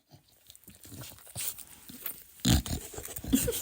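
A dog snuffles and grunts up close in short, irregular bursts, with a louder snort near the end.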